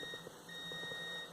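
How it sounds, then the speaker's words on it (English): High electronic beeping from a coffee pot, steady and fairly quiet against a low room hum, with no talking. "That's a coffee pot going off."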